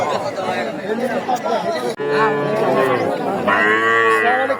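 Cattle at a bustling animal market in Chandaikona, Sirajganj, give loud, close, drawn-out moos over a constant crowd chatter and nearby talk.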